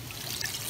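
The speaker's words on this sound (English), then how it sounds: "I will add warm water," Warm water pouring into a pan of potato curry, a brief close trickling stream over a low background hum.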